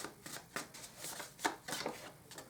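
Tarot cards being shuffled in repeated crisp riffling bursts, about seven quick papery flurries spaced through the moment, close and moderately loud, with no talking.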